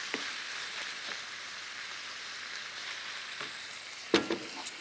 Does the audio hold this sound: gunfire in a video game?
no